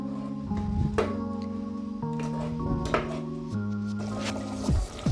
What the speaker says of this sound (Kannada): ಇವಾಗ ನೋಡಿ ಕುದೀತಾ ಇದೆ.